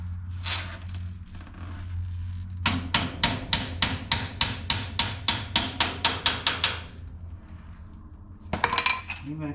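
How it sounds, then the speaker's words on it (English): A steel hammer taps a pin into place on a White 4-270 tractor, giving a fast run of about twenty sharp metallic strikes close up, with a few scattered clanks before and after. "Give it a couple taps to make sure it's home."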